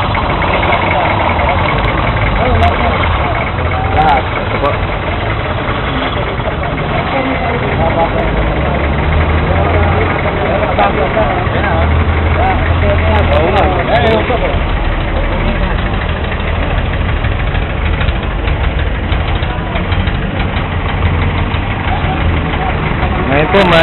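A car engine idles steadily after an oil additive has been poured in, its loud, continuous rumble with a faint knock running throughout while someone talks over it.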